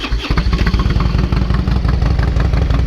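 A 2005 Harley-Davidson Road King with a 96 cubic inch kit and Python exhaust idling in neutral, a loud, deep, lumpy potato-potato rhythm close up, no voices.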